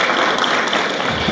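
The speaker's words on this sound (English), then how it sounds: "give yourselves a round of applause" Brief burst of dense clapping from participants at a climate action panel discussion, steady and fairly loud with no talk.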